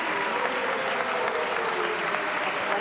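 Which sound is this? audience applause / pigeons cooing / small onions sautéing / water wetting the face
audience applause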